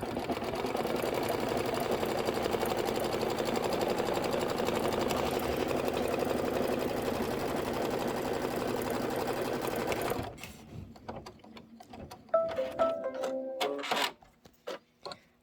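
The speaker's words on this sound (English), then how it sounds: "we are going to stitch out the cart placement line" An embroidery machine stitching a placement line on fabric runs with a fast, steady mechanical whir and ticking for about ten seconds, then stops, followed by intermittent clicks, handling noises and short bursts of motor sound close by.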